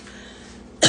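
A single short, harsh cough after a bong hit bursts out after a moment of near silence, close and fairly loud.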